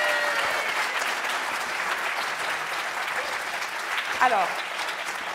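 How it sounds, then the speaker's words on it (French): Sustained audience applause at a special evening event for apprentices, steady and dense throughout, with a voice briefly speaking over it near the end. "On peut les applaudir bien fort, s'il vous plaît."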